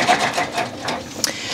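Computerized embroidery sewing machine stitching the eyes onto fabric fish, a steady close mechanical hum with rapid rhythmic needle stitching and a brief sharp click near the end.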